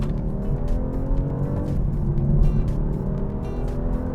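BMW G42 220i, a 2023 model, pulling hard in second gear down a slight hill, a steady loud engine drone with rising harmonics, a brief dip near the middle, then continuing to build.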